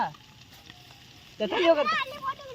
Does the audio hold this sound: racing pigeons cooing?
no